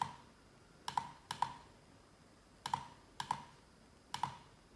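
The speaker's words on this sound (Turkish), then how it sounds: "Daha sonra o verdiği kodu yazıyorum." Keys struck on a computer keyboard while a code is entered, in three pairs of crisp, close clicks separated by short pauses in an otherwise quiet room.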